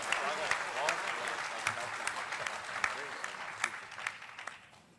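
An audience at a Hindi-Urdu ghazal and poetry recital claps in a sustained burst of applause from many hands, dense and fairly close, fading toward the end.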